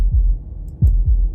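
A heartbeat sound effect from the game Slay the Princess: loud, deep, muffled thumps in a close lub-dub rhythm, three beats with no other sound.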